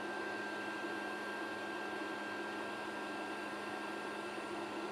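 A 36V 3000W inverter under heavy load during a maximum output test, giving a steady broadband whirring drone with a constant tonal hum, unchanging and continuous throughout with no talking.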